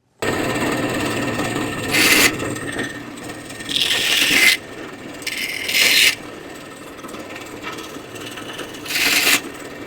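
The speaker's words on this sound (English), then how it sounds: "I'm going to cut them directly in half because I want to be able to have some elbow." A saw cutting small wooden dowels in half for a craft project: a steady background hiss broken by four short, rough, rasping bursts of sawing strokes, close and fairly loud.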